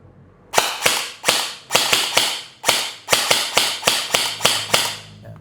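An airsoft rifle marked Daniel Defense fires in semi-auto, about a dozen sharp, loud snapping shots in uneven succession, each with a short ringing decay, close up with no talking.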